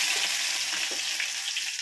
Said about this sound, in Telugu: ఆయిల్ వేడెక్కింది. పోపులు వేస్తున్నాను.